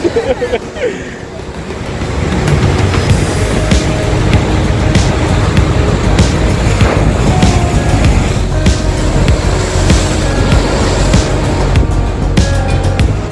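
Rough, stormy sea waves break on the rocky, cliff-lined Galician coast as a steady, loud roar of surf and wind that fills the whole stretch, with no clear pauses between breakers.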